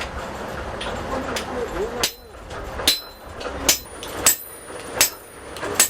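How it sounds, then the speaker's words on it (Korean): A blacksmith at a traditional forge strikes hot iron with a hammer, a run of sharp ringing metallic blows at an irregular then steady pace, close and loud, with some low background noise between strikes. "대장간에서 중요한 것은 바로 망치질, 즉 매질입니다"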